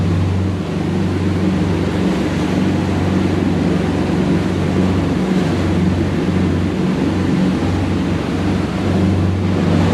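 Waves of about a metre slap against a small boat under way off the Norfolk coast near Cromer, taking the sea slightly on the beam, heard as a loud, steady rushing wash mixed with wind and low engine drone, with no talking.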